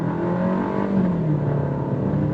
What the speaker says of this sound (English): I want to go on throttle and show you how this new Tiguan accelerates.